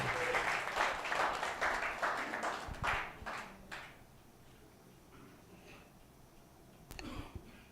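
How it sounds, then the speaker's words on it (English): An assembly audience at a national gathering claps in a round of applause for roughly four seconds, fairly distant and moderate, then it fades into quiet room tone with a faint thump. "So we shall give him a round of applause"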